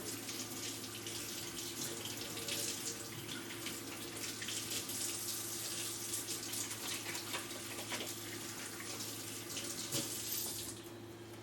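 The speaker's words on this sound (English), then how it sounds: "let me rinse my hands real quick" A water tap runs steadily into a sink as hands are rinsed, a continuous close splashing stream that lasts the whole stretch and eases off at the very end.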